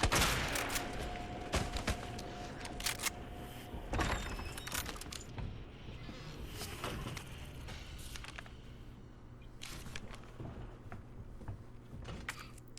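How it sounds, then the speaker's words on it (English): Shotgun blasts in Resident Evil 2 ring out as a few sharp, widely spaced bangs over a dim, rumbling game backdrop, with clicks and mechanical clatter between shots. "Let's just use the shotgun"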